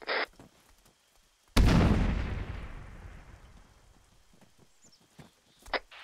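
A frag grenade blows up in Arma 3 with one loud, deep, booming blast that rolls away over several seconds, preceded and followed by brief short clicks and radio-like noises.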